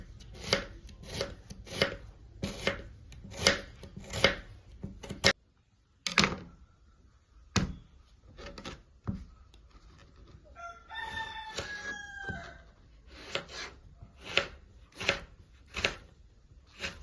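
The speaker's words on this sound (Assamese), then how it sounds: "আমাৰ এতিয়া জলকীয়া পিঁয়াজ আৰু বিলাহী এইখিনি কাটা হৈ গ'ল" Onions, green chilies and tomatoes are chopped on a board in steady, close knife strikes with a few pauses, while a rooster crows in the background partway through.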